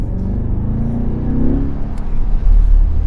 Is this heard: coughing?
no